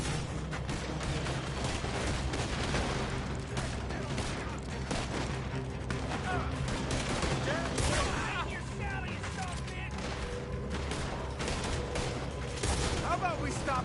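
A sustained gunfight in Red Dead Redemption 2, with rapid overlapping gunshots crackling continuously while voices shout over the shooting.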